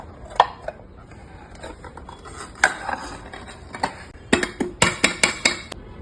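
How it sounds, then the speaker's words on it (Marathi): A knife works around the sides of a pan of baked cheese kunafa, scraping and tapping close by, with a quick series of sharp metallic clicks toward the end. "बेक झालेलं कुनाफा आहे त्याला आता साईडने असं सुरीने थोडंसं सोडवून घ्यायचं आहे"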